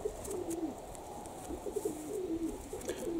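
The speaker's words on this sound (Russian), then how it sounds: "Смотрите, какой у меня уникальный голубок родился по белой линии, чисто беленький, кайма в хвосту" A young, pure white Budapest pigeon with a bordered tail coos softly in repeated low, throaty phrases, close by with faint background noise.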